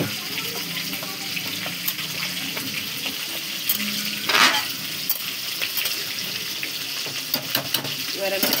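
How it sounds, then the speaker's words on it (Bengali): Water poured into a sizzling shrimp curry (chingri macher chorchori) in a pan, then stirred: continuous frying hiss with a brief rushing pour midway and scattered clinks of a spoon, faint voice in the background. "এবার আমি পরিমাণ মতন জল দিয়ে দেব।"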